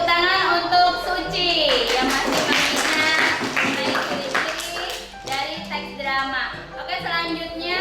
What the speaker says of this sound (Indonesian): beri tepuk tangan untuk Suci yang masih mengingat mengenai ciri-ciri dari teks drama